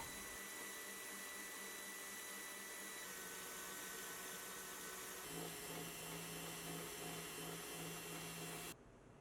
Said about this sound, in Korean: 믹싱볼에 옮겨 담아 휘핑을 해주세요